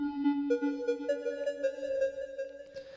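Synthesized tonal notes from a Roland P-6 sampler step upward and sustain, each trailing off in rhythmic repeating echoes with a washy reverberant tail.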